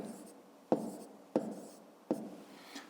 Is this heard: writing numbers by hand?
yes